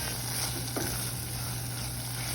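Beetroot halwa with fried cashews and raisins being stirred in a pan, giving a steady soft sizzle with a faint scrape of the spoon partway through, continuous and close with no voices.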